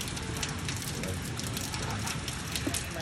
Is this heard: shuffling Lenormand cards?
no